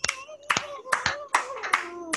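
Children clap together at a church children's service, five short bursts of hand claps, close and fairly loud, with faint young voices underneath.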